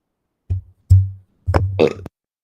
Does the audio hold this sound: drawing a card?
no